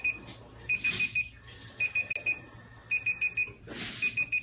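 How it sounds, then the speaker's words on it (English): A one-minute timer goes off at a water store, beeping in quick clusters of three or four electronic tones repeated several times, fairly loud and close, with no voices. "Oh, there's my 1 minute timer going off."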